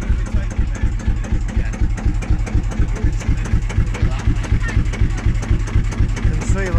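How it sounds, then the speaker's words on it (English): A vintage tractor engine idling on tick over at a vintage vehicle yard, loud and close, its pulsing exhaust beats thumping in a steady even rhythm throughout. "have you seen how this tractor shakes up and down when it's just sat on tick over?"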